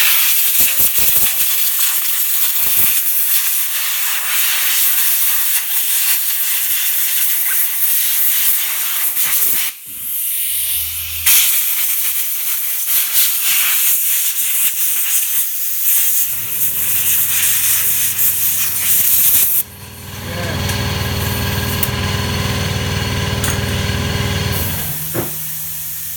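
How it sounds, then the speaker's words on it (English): An air hose blows off a Kawasaki PWC fuel sending unit, giving long loud hissing bursts of compressed air with a brief pause midway and a humming tone in the later stretch. "Take an air hose and let it"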